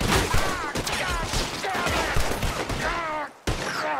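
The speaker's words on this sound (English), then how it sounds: "I can't believe you shot me, you bastards!" Rapid gunfire erupts in a Western shootout in the video game Red Dead Redemption 2, with dense, repeated loud shots and a brief gap near the end before firing resumes.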